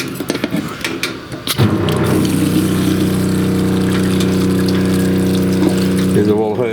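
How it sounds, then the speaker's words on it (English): Water pump in a camper trailer's sink plumbing hums steadily and loudly with a droning tone, kicking in after a short burst of handling noise and running continuously to the end. "Turn the pump on."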